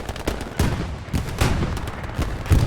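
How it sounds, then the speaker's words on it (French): Distant artillery fire in the World War II shooter Hell Let Loose, during an attack on Foy: dull booms land at irregular intervals amid a rumbling wash of scattered gunfire. "Oh, il y a de l'artillerie par contre là-bas."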